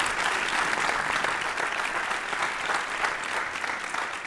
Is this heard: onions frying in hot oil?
no